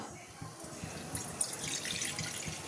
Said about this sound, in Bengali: আমি এবার এই কড়াতে দিয়ে দিচ্ছি জল